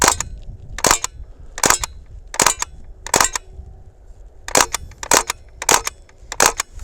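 Tommy gun style BB gun firing on full auto, with nine sharp, loud bursts spaced about half a second apart. A short pause falls midway, and the shots stand alone with no talk.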